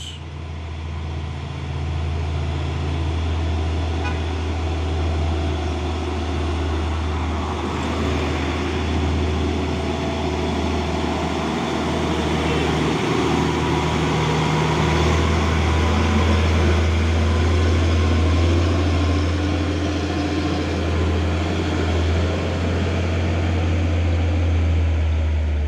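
A Hino 500 truck driving past a steep hill climb, its engine a steady, loud low drone with a constant rumble that swells slightly over the passage.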